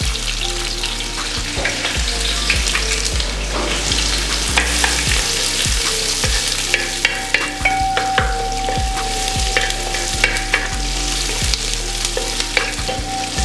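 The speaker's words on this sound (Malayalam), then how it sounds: "ഇതിലേക്ക് കുറച്ച് കറിവേപ്പില ഇട്ട് കൊടുക്കാം ഒപ്പം ഒരു പത്ത് പീസ് ചെറിയ ഉള്ളി സ്ലൈസ് ചെയ്തും കൊടുക്കാം" Curry leaves and sliced small shallots fry loudly in hot oil for an erissery, a dense crackling sizzle with repeated spoon strokes tapping and scraping the pan throughout.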